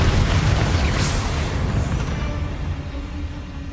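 A Confringo blast curse in Hogwarts Legacy lands as a loud, booming explosion that rumbles and fades over a few seconds.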